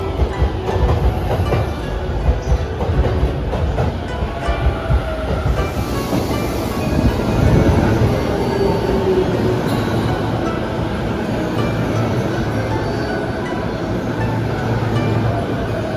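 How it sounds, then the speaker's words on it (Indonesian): A commuter train in Tokyo rolls steadily along with a continuous low rumble and rattle of wheels on track, loud and close throughout, with no voices. "Kami naik KRL dari Tokyo Station"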